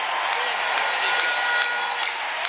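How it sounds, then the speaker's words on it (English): Congregation clapping hands to Jesus at a church service in Uganda, a continuous mix of crowd clapping and cheering under the noise of a large hall. "Why don't you clap your hands to Jesus?"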